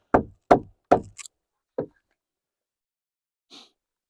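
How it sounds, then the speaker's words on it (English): A drill used as a hammer gives three sharp, evenly spaced knocks on a wooden stair tread, then a couple of small taps and one more knock, with a faint click trailing after silence. "Pretty sure using your drill as a hammer is frowned upon"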